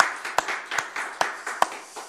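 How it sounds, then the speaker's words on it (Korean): A church congregation in Daegu, South Korea, claps during a late-December Sunday worship service, producing a handful of sharp, spaced claps over a soft broadband wash of scattered hand-clapping. "모든 영광의 박수를 하나님께 드리겠습니다"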